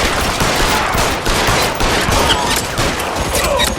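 Dense gunfire in the video game L.A. Noire: continuous overlapping shots crackle loudly from start to finish, forming a sustained volley with no pauses.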